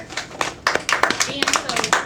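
A small Sunday school audience claps for the actors after a class presentation, a brief burst of uneven hand claps with voices mixed in.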